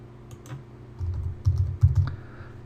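A computer keyboard is typed on in a brief burst of several soft key presses while a password is entered, close by, with low thumps over faint room hum and no talking.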